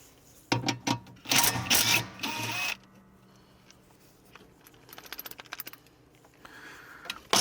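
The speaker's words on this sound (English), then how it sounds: "So now we'll grab a 13mm socket and we will take that off." A 13mm socket wrench removing a bolt, heard as close bursts of rapid ratcheting clicks and metallic scraping, followed by quieter irregular ticks and taps, with no talk.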